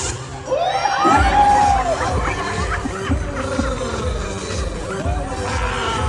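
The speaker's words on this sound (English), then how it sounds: "You hear them laughing and cheering." A crowd of children on a cruise shouts and cheers loudly together, with shrill whooping rising above the noisy, excited babble.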